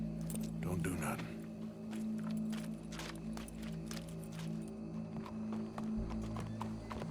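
Horse hooves clip-clopping with a brief neigh in Red Dead Redemption 2, heard under steady background game ambience and low music, with people talking nearby in the scene.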